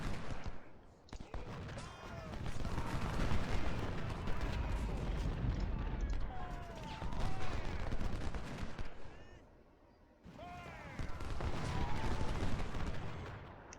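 Civil War battle in the Ultimate General: Civil War strategy game, with dense rolling gunfire and booming artillery in continuous volleys, a brief lull near the end before firing resumes; a voice is faintly present.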